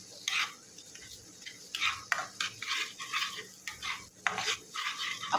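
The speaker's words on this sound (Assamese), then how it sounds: "অকণমান দেৰি ভাজি ল'ম এইখিনি" Spices fried in oil in a pan for an Assamese fish curry, with a spatula scraping and stirring in short repeated strokes over a soft background sizzle, close and fairly quiet.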